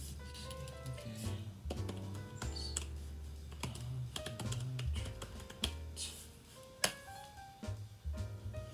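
Irregular bursts of clicky keystrokes on a computer keyboard, close and quiet, with a few mouse clicks and low background hum, no talking.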